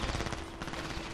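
Rapid turret gunfire in a first-person shooter, a dense burst of automatic shots rattling loudly and continuously for a brief moment.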